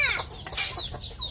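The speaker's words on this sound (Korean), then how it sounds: "여기에 치킨을 키우신대요. 닭을. 닭장입니다." Chickens cluck in a backyard coop at a family home in Siem Reap, Cambodia, with several short, close clucks and squawks in quick, uneven succession and no talking.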